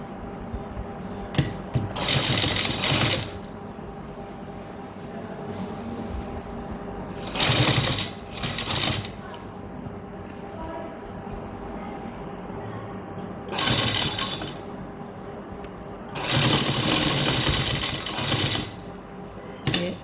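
A sewing machine stitching piping onto a garment neckline, running in loud close bursts of rapid mechanical rattling separated by quiet pauses.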